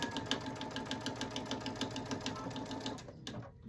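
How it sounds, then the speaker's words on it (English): A sewing machine back stitches a seam while a placemat is sewn into a basket, running in a fast steady chatter of rapid needle strokes, close and even, then stopping abruptly. "I am going to back stitch in the seam just to reinforce that area"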